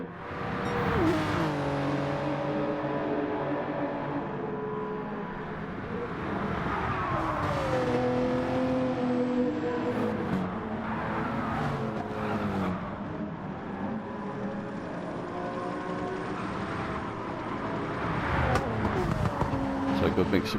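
Race cars compete in the video game Gran Turismo 7, with engines revving and shifting pitch continuously, a pack of cars close by and occasional tire squeal, while someone commentates over them.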